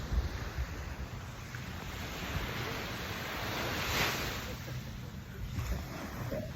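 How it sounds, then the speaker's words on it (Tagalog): Sea surf washes steadily onto a beach in the Philippines, a continuous broad roar of breaking waves with wind buffeting the microphone and a slight swell near the middle. "Dito ako sa dagat."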